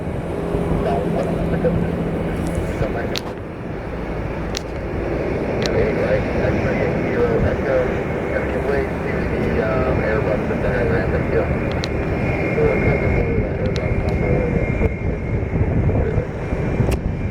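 A United Airbus A320 in retro livery taxis slowly toward its gate on a windy airport apron, a steady engine drone and rush near the listener, with wind buffeting the microphone and someone talking over it.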